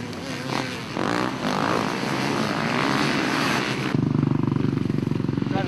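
A 2010 Gas Gas motorcycle engine drones steadily nearby, then shifts to a louder, harder-pulsing rasp partway through as the revs rise, with no voices heard.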